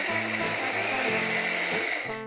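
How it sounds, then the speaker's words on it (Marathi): A mixer grinder whirring as it grinds poppy seeds with a little water into a paste, a loud continuous motor drone with a steady pitch that cuts off at the end. "आणि आता मिक्सरला आपण ग्राइंड करून घ्यायचंय"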